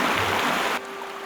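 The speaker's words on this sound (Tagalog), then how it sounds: "Hindi sila makatawid dahil sa biglang paglakas ng agos ng tubig." Swollen river water rushes after a sudden surge, a loud, broad roar that drops off abruptly partway through and leaves a quieter flow with a faint steady tone.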